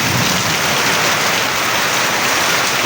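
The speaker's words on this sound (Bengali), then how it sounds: "প্রচণ্ড বৃষ্টি নেমে গেছে অলরেডি" A dense, steady roar of heavy rain pouring down without pause, close and loud throughout.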